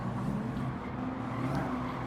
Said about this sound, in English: You can hear this car just wants to be unleashed in a straight line,